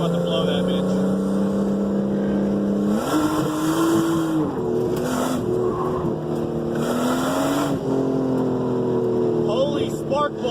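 A Nissan 350Z truck and an RB25-powered Datsun drift on a mountain touge road, engines droning and revving steadily close by, with people talking over the car noise.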